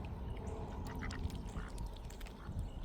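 Ducks quack faintly at an outdoor picnic, short scattered calls over a steady background hum of open air.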